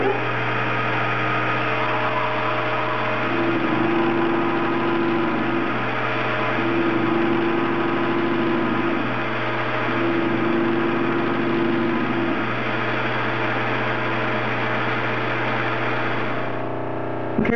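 A metal lathe turning at 800 RPM takes roughing passes on a muzzle brake, producing a loud, steady machine drone with a whining tone that rises and falls in three even cycles. The sound is close and continuous, with no talking.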